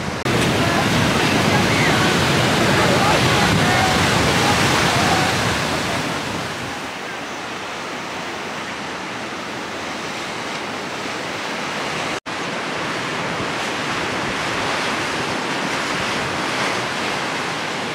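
Surf at Bronte Beach on the Bondi coastal walk washes in as a loud, continuous roar of breaking waves with wind buffeting the microphone, easing slightly partway through before building again.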